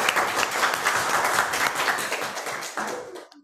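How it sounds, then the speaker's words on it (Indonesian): Students in a physics class applaud a visiting climatologist, a dense, steady round of clapping that carries on for about three seconds and then quickly dies away. "Kita beri tepuk tangan untuk Pak Nara."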